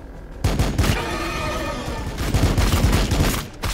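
Dense, continuous battlefield gunfire in Warhammer 40k Battlesector, a rapid stream of overlapping shots and thuds that runs loud and steady for several seconds before cutting off.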